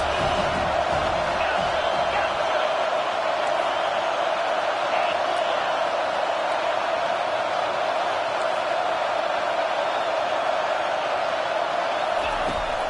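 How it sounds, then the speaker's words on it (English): Stadium crowd roars continuously on third down at an American football game, a dense, sustained wall of cheering and shouting filling the venue. "Third down, and this crowd is tearing the lid off this place."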